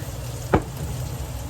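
Chicken frying in a pan after balsamic vinegar goes in, a steady close sizzle with a single brief clatter midway and no voices.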